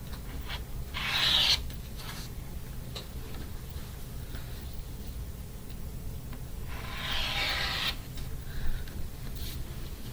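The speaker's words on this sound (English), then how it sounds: "And just trimming all the way around the block." Rotary cutter or blade trimming around the edges of a fabric quilt block, heard as two soft rasping cuts, one early and one later, against a quiet background.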